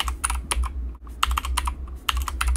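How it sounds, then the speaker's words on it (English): Fingers typing on a computer keyboard, close and crisp, in quick bursts of key clicks broken by a brief pause, with no talking. "I'm going to type it in"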